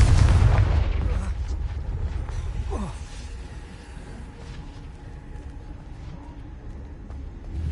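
A Confringo explosive spell goes off in a video game, a loud booming blast at the start that rumbles and decays into a lingering low roar.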